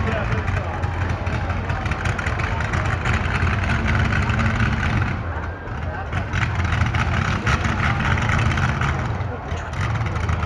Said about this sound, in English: Allison aircraft engines.